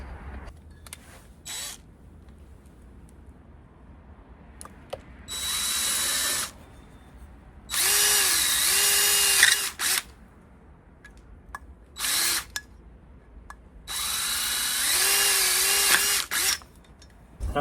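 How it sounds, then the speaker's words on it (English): A power drill whirs in several bursts, each a few seconds long, drilling holes in an outdoor lighting and outlet fixture, separated by quiet pauses and small clicks and handling noises. "I'm going to have to go get a drill bit to put holes in here"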